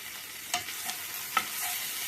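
Chicken filling for momos cooks in a pan with a low, even sizzle, punctuated by three distinct spatula scrapes and taps close by, with no talking.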